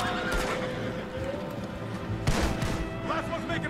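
In the Red Dead Redemption 2 video game, several horses gallop in with loud neighs and clip-clopping hooves amid a gunfight, with occasional gunshot bursts and a person talking over the action.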